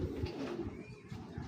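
A large male racing pigeon coos softly in a few low throaty pulses, close by and quiet, with no talk.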